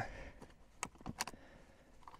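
A few sharp plastic-and-metal clicks and clunks sound up close, a latch snapping shut amid quiet handling noises.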